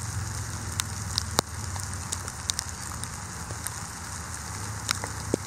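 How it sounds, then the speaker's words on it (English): Steady rain patter on a surface with scattered sharp drip-like ticks, continuous and moderately loud, no voices. "It's raining now"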